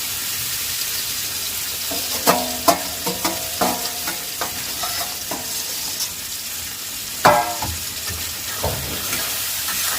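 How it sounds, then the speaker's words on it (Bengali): Fried radish and potato pieces stirred into a sizzling spice masala in a pan, a steady frying hiss broken by a series of distinct spatula clacks and scrapes, close and unaccompanied by speech. "আমি যেগুলো ভেজে রেখেছিলাম মূলো আলু, ওইটা দিয়ে আমি কষাবো"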